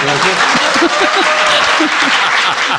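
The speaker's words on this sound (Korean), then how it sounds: "박수 부탁드립니다" A live audience at a Korean political talk show breaks into loud, dense applause, close and continuous for about three seconds, with a voice talking faintly underneath.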